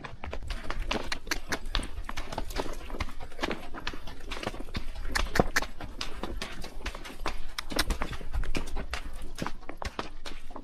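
Hooves of a horse being ridden on a mountain trail clip-clop steadily and close, a continuous irregular rhythm of knocks on hard ground with faint voices in the background.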